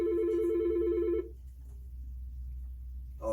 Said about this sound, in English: We got a phone call here.